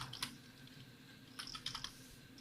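Typing on a computer keyboard: quiet, close clusters of light key clicks in short irregular bursts, with brief pauses between them.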